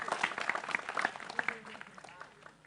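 Scattered clapping from an audience at a gathering in Wonosalam fades after a couple of seconds, light and uneven with a faint murmur of the crowd underneath.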